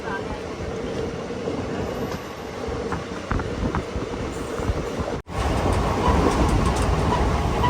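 The Sabari Express rolls on after leaving Thrissur, giving a steady rumble with soft clatter from inside the moving train and a brief dropout partway through.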